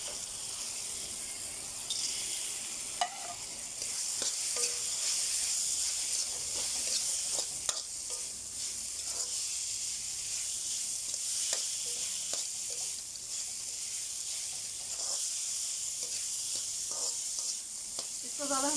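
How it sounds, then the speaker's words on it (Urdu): Okra dropped into a pan of well-fried masala paste for an achari bhindi fry, with steady close sizzling and occasional stirring scrapes throughout, no voices. "مسالہ ہمارا اچھی طرح بھون چکا ہے، اب ہم اس میں بھنڈی ایڈ کر دیں گے"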